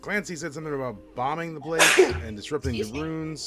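A single sneeze bursts out in the middle of a tabletop role-playing session, landing between stretches of steady conversation from the players.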